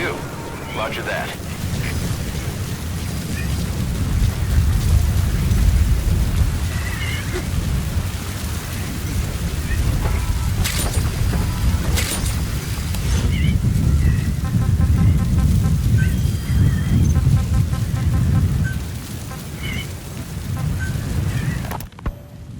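A storm sweeps across the Metal Gear Solid V: The Phantom Pain landscape, with a dense, roaring rush like heavy rain and wind that swells and eases, broken by a few sharp cracks, and a voice speaking over it.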